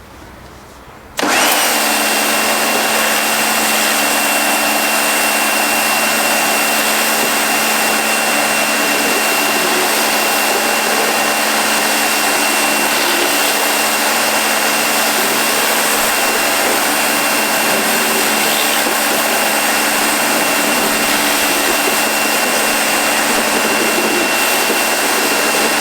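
A Karcher K2 Full Control pressure washer with detergent fed in cleans a paving slab, its loud, steady motor whine and water jet kicking in after a brief pause and running unbroken and close.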